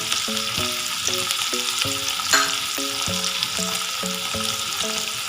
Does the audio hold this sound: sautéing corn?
yes